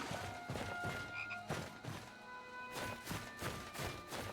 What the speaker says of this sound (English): Heard a frog, but I guess we don't need to worry about that.